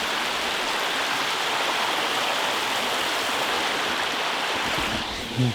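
Steady rushing water of a flowing river, loud and continuous, with no voices, ending in a brief soft bump.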